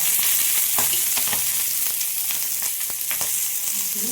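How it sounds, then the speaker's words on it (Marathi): Green chillies frying in oil for a spicy village-style mirchi thecha, giving a loud, steady close sizzle with faint stirring scrapes and no talking. "मिरच्या भाजत आलेल्या आहेत आपल्या आपण थोडंसं तेल टाकणार आहोत एक चमचा"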